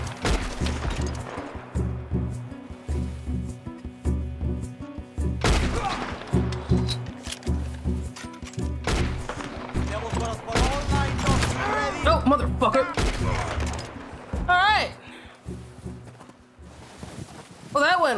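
Gunfire in Red Dead Redemption 2 rings out in repeated sharp shots and volleys amid crashes, hoofbeats and voices, spread across a busy scene with people speaking over it.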